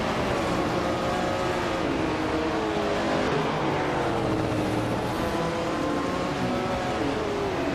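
Several race cars in a racing video game set at Zandvoort, one a c. 1965 Shelby Daytona, roar off the start in a dense, steady engine drone with rising and falling revs from multiple engines throughout.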